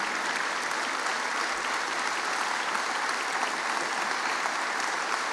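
Steady audience applause greets a governor at a speaking event, a dense, even roar of clapping from a large crowd that holds at a constant level for the whole stretch, with no one speaking.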